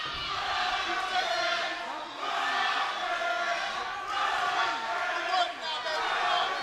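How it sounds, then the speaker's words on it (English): A boxing crowd at a Kings Promotions fight card screams and chants a fighter's nickname in sustained loud waves, a dense roaring mass of voices swelling and dipping throughout. "the crowd again trying to will Carlos Rosario, screaming out his nickname"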